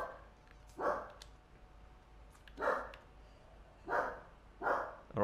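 Dogs barking somewhere in the background, four separate single barks spaced a second or two apart, muffled and fairly faint over a quiet room.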